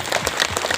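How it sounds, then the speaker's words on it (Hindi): A crowd claps briefly at the inauguration of a Sarna site boundary wall in Pandra, with dense, steady clapping throughout the short stretch. "और सबके लिए एक बार ताली बजा दीजिए"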